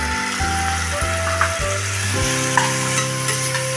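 Prawns fry in butter and garlic in a hot pan, giving a steady loud sizzle while being stirred, close to the microphone with no talking.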